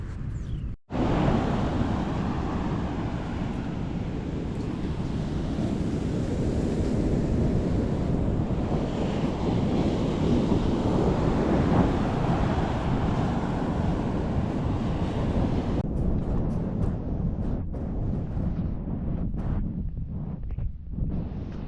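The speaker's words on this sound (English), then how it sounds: "All the wind." Strong wind roars across the backcountry dunes at Assateague, buffeting the microphone in a loud, continuous rush over the steady wash of ocean surf, with no talk.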